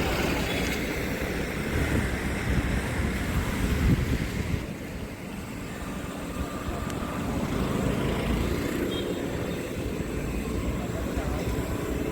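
Surf and wind roll steadily along Miramar Beach in Goa, a broad continuous wash of waves with wind noise at a moderate distance.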